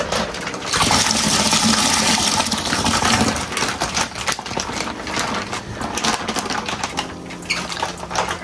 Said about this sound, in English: So I'm just gonna go ahead and put some water here.